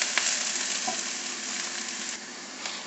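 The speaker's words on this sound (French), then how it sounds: "vous pouvez enlever le couvercle et continuer de caraméliser les oignons" Onions sizzle and caramelize in an uncovered pan, a steady close hiss of frying with faint crackles and the occasional light scrape of stirring, no voices.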